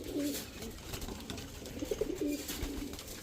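A Cobra red patti pigeon coos softly in short repeated phrases, close by, with faint background noise around it.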